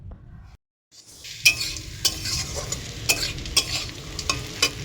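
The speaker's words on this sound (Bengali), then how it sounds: "এখন উচ্ছে ভাজাটা বসিয়েছি" Bitter gourd, potato and onion sizzle steadily in a frying pan after a brief silent gap, with a spatula stirring and clinking against the pan in sharp taps about once a second.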